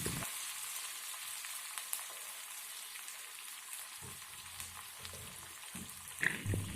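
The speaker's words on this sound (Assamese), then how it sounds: "পিঁয়াজখিনি এতিয়া অলপ ৰঙা হোৱালৈ ভাজি ল'ম।" Large-cut onions fry in hot oil with bay leaf, cardamom and cinnamon for an Assamese duck curry, giving a soft, steady sizzle with occasional light stirring taps and scrapes.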